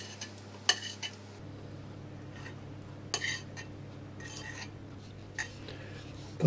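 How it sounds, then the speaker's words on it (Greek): A spoon stirring orange cake batter in a bowl: soft scraping strokes with several brief sharp clinks of utensil against the bowl, over a low steady hum, no talking. "Θα το ανακατέψουμε"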